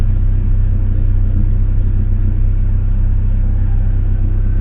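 A Suzuki Jimny Katana engine running during carbon cleaning of the cylinder head, giving a loud, steady low rumble close by with no clear rise or fall in pitch.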